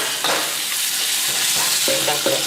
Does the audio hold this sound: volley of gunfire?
no